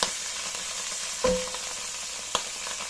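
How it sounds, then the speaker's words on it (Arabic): Garlic frying with rice and raisins in a pan over low heat, a continuous even sizzle with a couple of sharp utensil knocks as the mixture is stirred. "بعد ما الثوم تاعنا بدا يتقلى نحطوا الرن، ونحطوا ايضا لي زيبيس تاعنا كاع"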